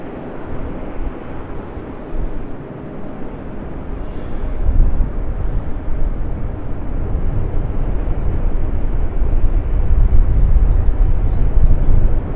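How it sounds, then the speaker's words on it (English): A Delta airliner lands at Raleigh-Durham airport on a windy day, its engines swelling into a loud, sustained rumbling roar that builds partway through and holds near, mixed with wind buffeting. "Here's our Delta that just landed a moment ago."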